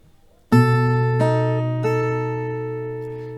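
Acoustic guitar melody from the B part of a song, three plucked notes in succession that ring out long and sustain together, clear and close with no voices.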